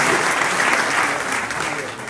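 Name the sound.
strong applause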